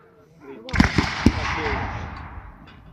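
Firearms of a US Civil War re-enactment go off outdoors in a breeze: a few sharp reports in quick succession merge into a rolling boom that fades slowly, heard from a distance.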